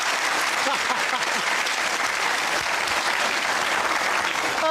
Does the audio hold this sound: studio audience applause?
yes